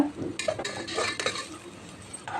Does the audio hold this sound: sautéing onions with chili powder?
yes